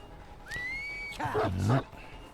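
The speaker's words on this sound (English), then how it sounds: "she lets out this loud whistle and pretty much telegraphs exactly what you're trying to be doing" A single rising whistle from the Houndmaster in the video game Dead by Daylight, one clear sliding tone held about half a second, followed by a voice speaking over the game sounds.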